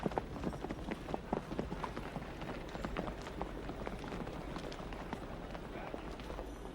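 A horse's hooves clop and patter on hard ground amid a busy outdoor bustle, with voices murmuring in the background.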